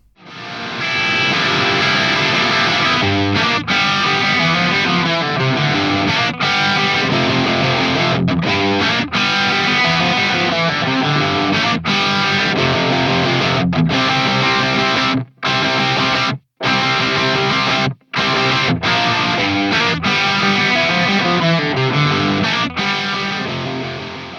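Crunchy, mid-gain overdriven electric guitar through an ENGL Powerball II amp plays continuously and loud, chugging riffs with a few abrupt stops near the end.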